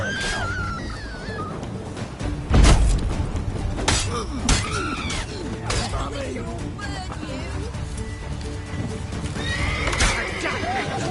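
A horse in The Witcher 3 whinnies loudly amid clip-clopping hooves, with thuds and a sharp impact, while in-game voices speak over the scene.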